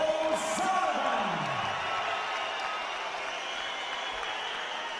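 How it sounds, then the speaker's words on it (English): Steady applause and crowd noise at a boxing match after a first-round knockout fill the space, a broad sustained clapping wash with a voice calling out briefly at the start. "Jim, sporting applause from a crowd that's got to be pretty disappointed here as well"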